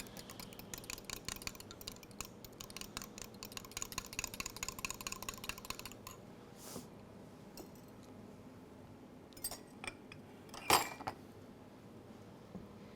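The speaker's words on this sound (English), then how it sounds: "we're just going to whisk this together" Eggs, oil, yeast and milk whisked together in a bowl for cinnamon roll dough, a busy run of quick clinking strokes for about six seconds, then quieter scattered taps with one sharp clink.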